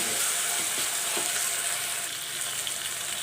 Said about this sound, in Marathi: टोमॅटो एक कट करून घेतलेला आहे तो टाकून घ्यायचा चांगला परतून घ्यायचा